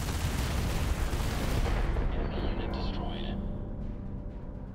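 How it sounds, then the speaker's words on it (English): Ship weapons in the space roguelike deckbuilder Earthless fire a dense, rumbling barrage that fills the first two seconds, then tapers into a lower, quieter roll of distant booms. "Then we're going to do another barrage."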